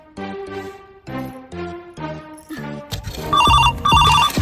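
A telephone rings loudly nearby in repeated bursts, first a lower electronic tone pattern, then a brighter, louder trill toward the end.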